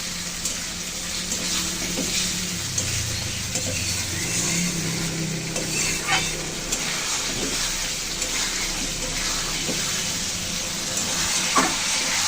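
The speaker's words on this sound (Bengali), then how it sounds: "মশলা কষাতে থাকবো যতক্ষণ না মশলা থেকে তেল ছেড়ে দেয়।" Masala sizzling as it is sautéed in oil for aloo rasa, a steady broadband hiss with low rumbling underneath, continuous and fairly close throughout.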